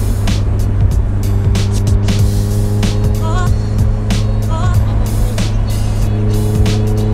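A 650hp Mitsubishi Evo 8 driving down a street, its engine a loud steady drone with road and tyre noise throughout, heard from close by with no voices.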